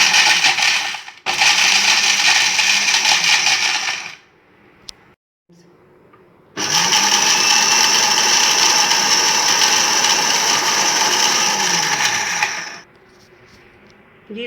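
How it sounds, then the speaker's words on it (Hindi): Electric grinder jar grinding whole garam masala spices into powder, a loud rattling whir in two long bursts separated by a brief pause, close up and with no voices. "इसको मैंने कर लिया अच्छी तरह ग्राइंड"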